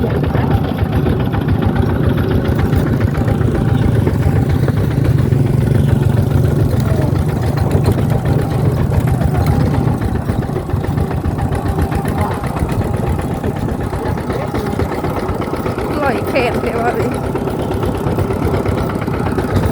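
A Toyota Vigo long-cab pickup truck engine drones loudly and steadily from inside the cab while riding, a continuous low rumble with no breaks.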